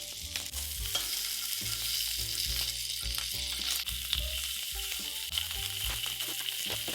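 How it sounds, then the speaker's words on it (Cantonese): Medium prawns pan-frying in a hot wok over medium heat, a steady close sizzle broken by clattering stirs and scrapes throughout. "然後中火燒熱隻鑊，將我哋嘅中蝦擺埋入去。 咁啲蝦每面煎1分鐘。"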